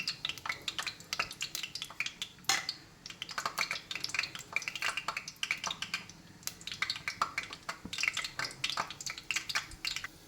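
Ingredients going into a pan for vegetable pulao, with repeated metallic clinks and scrapes of a spoon against cookware in an irregular, close rhythm and no talking.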